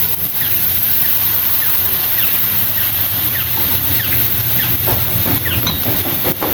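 Fish sauce hits rice sautéing with garlic, onion and ginger, raising a loud, continuous sizzling hiss dotted with faint crackles and pops throughout.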